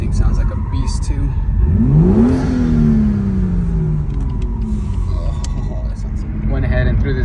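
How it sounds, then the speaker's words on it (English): A BMW M2 engine blips through a quick rev, rising to a peak and falling away, loud against a steady rumbling idle with people talking nearby. "I'm gonna get a quick rev of my car because this thing sounds like a beast too"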